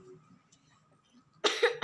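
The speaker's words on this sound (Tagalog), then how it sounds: "Naubo ako." A single sharp cough bursts out close and loud near the end, after a stretch of quiet room tone with faint background murmur.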